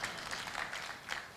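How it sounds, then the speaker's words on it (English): Audience applause at the OFAB Kenya Media Awards 2023 ceremony, a steady wash of many hands clapping through the whole moment with a slight swell near the end. "let's give them a round of applause for having sacrificed"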